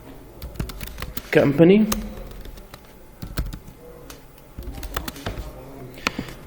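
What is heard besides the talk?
typing on a computer keyboard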